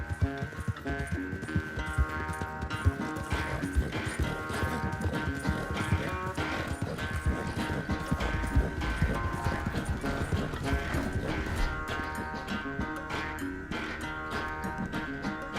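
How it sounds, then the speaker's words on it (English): Horse hooves clip-clopping in the Red Dead Redemption 2 video game, a steady rapid rhythmic clatter of a horse on the move, close and continuous, with game music or tones sounding underneath. "My horse ain't fast, but what it lacks in speed, it makes up in stamina."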